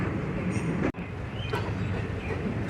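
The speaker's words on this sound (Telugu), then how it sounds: "మన ట్రైన్ అయితే present Chennai park railway station అయితే స్కిప్ చేస్తుంది స్లోగా." A train rolls slowly through Chennai Park railway station without stopping, with a continuous close, heavy rumble of wheels and carriages. The noise cuts out for a split second near the start, then carries on steadily.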